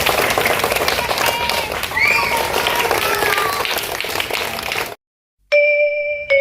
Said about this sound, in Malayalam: കൈയടിച്ചേ.